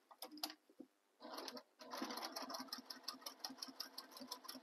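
A domestic sewing machine stitches across the bottom of a fabric tote bag, quiet, rapid rhythmic clatter in short bursts with a brief pause, then a longer steady run.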